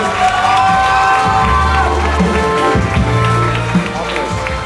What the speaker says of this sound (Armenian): մի հատ հլը բարձր ծափը արեք Սողոմոնի